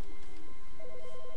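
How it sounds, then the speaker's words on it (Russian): A telephone rings in the video game The Stanley Parable, a short electronic trilling tone heard clearly over a low background hum, with no talk. "Телефон звонит."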